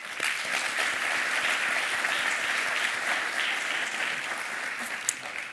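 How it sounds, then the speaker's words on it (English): Crowd applause at a Persian arts prize ceremony honoring the Iranian Studies Center staff, a sustained, even roar of many hands clapping at moderate distance, without speech. "let's applaud the people who run the Iranian Studies Center"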